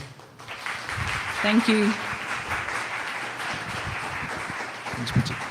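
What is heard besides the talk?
audience applause for a speaker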